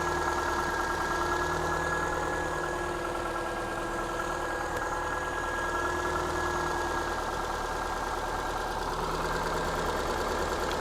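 A car engine runs steadily at idle with a slightly rattly, clinky edge, a continuous close drone throughout and no voices.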